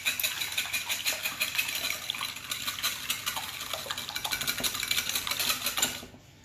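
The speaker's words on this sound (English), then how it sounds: "give them a nice good mix and whisk up" Eggs are beaten with a whisk in a bowl for Southern fried chicken, a fast, steady metallic clatter of wire against the bowl that runs for several seconds and then stops, heard close with no talk.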